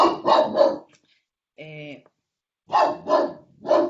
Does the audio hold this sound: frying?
no